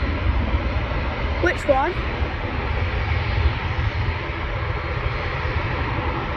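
Ryanair airliner passing at Manchester Airport, a steady broad engine roar continuing throughout under a brief spoken comment from a nearby plane spotter.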